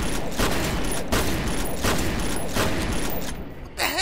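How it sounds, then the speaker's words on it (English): Loud video game explosions, with propane tanks shot nearby, blast a hole in a wall as a rapid string of heavy booming bursts with close crackling debris. "I'm just blowing a hole in the wall."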